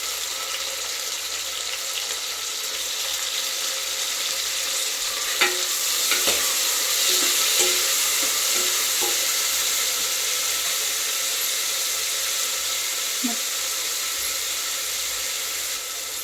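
Onions frying in a pan for a goat-leg mutton sambar, with a constant bright sizzle throughout and a cluster of spoon scrapes and clinks in the middle as they are stirred.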